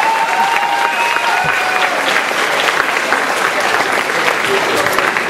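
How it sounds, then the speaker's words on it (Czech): Loud, dense applause fills the room during a quiz-show style game, sustained evenly throughout, with a few faint cheers or voices mixed in. "To chce potlesk."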